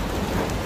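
Steady rain falling outdoors beside an abandoned roadside house, a continuous broadband hiss with no voices, filling the short moment evenly.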